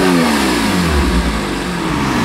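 Porsche 991.1 Carrera 4S engine with its exhaust valves closed, revving loudly and close, pitch sweeping downward before settling into a steady muffled drone.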